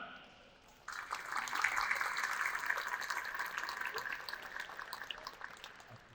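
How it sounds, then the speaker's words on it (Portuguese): Applause from a conference audience welcoming a speaker to the panel at a Brazilian public forum on highway investment; a steady, fairly distant clatter of clapping starts abruptly and slowly thins out over several seconds. "conto com as palmas de todos vocês"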